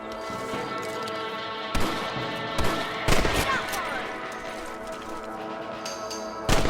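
Gunfire from a rifle in Red Dead Redemption while shooting rabbits, several sharp reports spaced unevenly over a continuous game soundtrack of music and ambience, with no talk during the shots.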